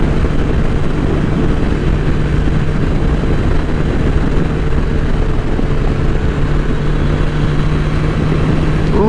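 A 2000 Suzuki Hayabusa motorcycle in sixth gear at speed: a loud, constant roar of engine and rushing wind that holds steady with no breaks.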